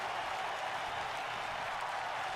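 A virtual arena crowd in a WWE 2K wrestling match roars and applauds in a dense, continuous wash of cheering, steady and moderately loud throughout.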